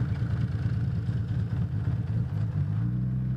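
A Honda CBX 1000 motorcycle's engine running with deep, continuous throbbing and a slight rise in pitch near the end, loud and close with no talk over it.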